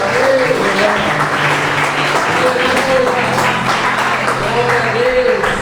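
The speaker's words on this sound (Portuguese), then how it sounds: "Aplauda al Señor en esta mañana." Church congregation applauding the Lord during a Spanish-language service, a loud continuous mass of clapping with a low sustained musical tone beneath and faint voices rising through it.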